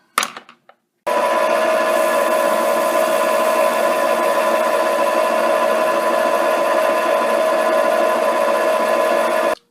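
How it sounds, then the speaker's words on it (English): A mini lathe takes a facing test cut, a steady loud whirring machine tone with a rasping cutting edge that starts after a second of brief clatter and holds evenly to the end, with no talk. "And now we'll do another test cut."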